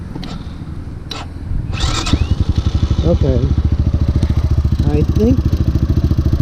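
A Pitsterpro XTR250 pit bike engine catches after a couple of sharp clicks and settles into a fast, even, close putter. It runs steadily while someone speaks briefly over it.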